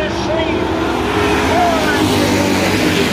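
Street stock race cars at Lee USA Speedway roar into a turn, their engines forming a loud, dense, continuous drone under an announcer's steady commentary.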